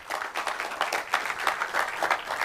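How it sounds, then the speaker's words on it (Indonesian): An audience claps at a Democrat party political gathering, a dense, fairly distant wash of many hands with slightly uneven bursts that carries on steadily throughout without anyone talking. "Tepuk tangan."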